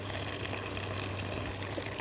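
Hot water is poured into a pot of rice cooking with milk, making a steady, close rushing gush with a faint low hum beneath, continuous for two seconds with no voices.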